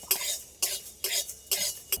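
Cumin seeds are dry roasted in a pan while being stirred, giving five sharp scraping strokes at an even rhythm, close and fairly quiet, with no voices.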